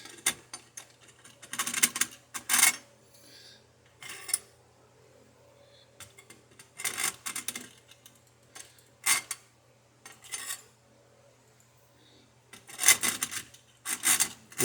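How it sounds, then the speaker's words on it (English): Power drill boring a hole with a larger bit while building an Alpha Beachcomber rig, in repeated short bursts of harsh whirring and rasping, each a second or so long, separated by pauses over a steady low hum. "So we'll drill that deep with the bigger drill."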